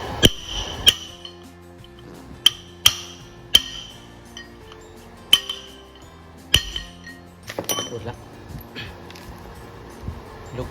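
Metal hammer blows driving out the front wheel bearing race of a 2012 Isuzu D-Max pickup, with about eight sharp, ringing metallic strikes at irregular intervals, close and loud, followed by lighter clinks and taps.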